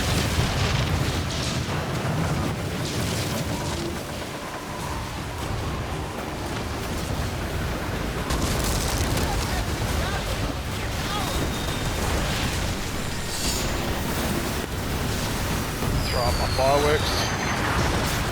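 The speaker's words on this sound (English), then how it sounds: "Fireworks." Fireworks burst over a pirate fleet attacking a fort in the naval game Skull and Bones, a rumbling stream of booms and pops layered with game effects while someone talks throughout.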